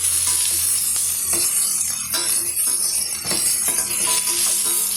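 Onions and masala sizzle in a pan for a hotel-style chana gravy, a steady close frying hiss with occasional stirring scrapes, and no talking.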